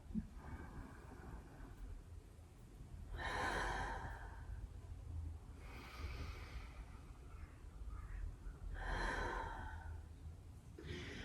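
Slow, deep breaths during a yoga flow: three long, airy inhale-and-exhale swells spaced a few seconds apart, close and fairly soft, with no talking.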